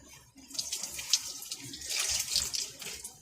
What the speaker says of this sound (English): blink like that while I'm pouring the milk